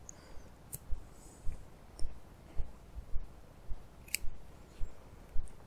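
Fine, sharp scissors trim embroidery threads, making a string of soft, crisp snips and clicks close up. They come at an irregular steady pace with quiet gaps between.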